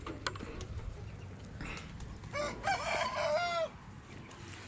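Chickens cluck and a rooster crows midway through, with poultry chatter over a steady farmyard background, from a pen of chickens and ducks in Israel.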